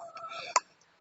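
Hens in a small backyard coop in winter give a few short, soft clucks, then a sharper squawk and a brief closing peep, all quiet and close by.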